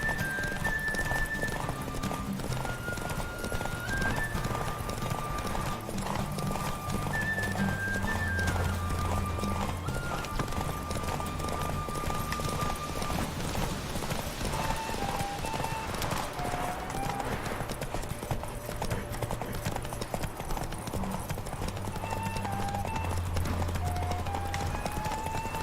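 A galloping horse in The Witcher 3 drums out a continuous clip-clop of hooves with occasional whinnies, steady and prominent over layered game music, with little talk.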